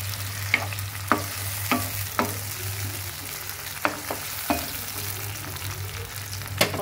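Garlic and ginger paste stirred into macaroni frying in a pan, a quiet sizzle under a low hum punctuated by about ten evenly spaced spatula knocks and scrapes, no voices.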